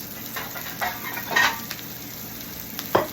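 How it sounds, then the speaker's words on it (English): Onions frying and sautéing in a pan for hash browns give a steady close sizzle, with a few scrapes and clinks of a utensil stirring against the pan and no voices. "while we're letting the onions fry and saute for our hash browns"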